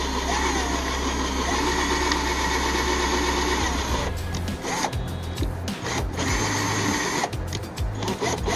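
Power screwdriver on a low torque setting driving a screw during a power button replacement, a close motor whir that runs steadily, then breaks into short stuttering bursts and pauses as the screw seats.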